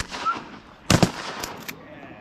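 Shotgun blasts ring out during a foggy duck hunt on a farm, two loud close reports in quick succession followed by a few fainter distant shots, with outdoor ambience and faint voices around them.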